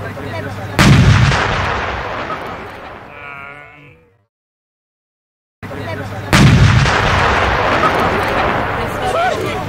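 A modernized T-72 M2 tank fires its main gun at a military exercise: two loud, close, sharp blasts a few seconds apart, each followed by a long rumbling decay, with a brief silence between them.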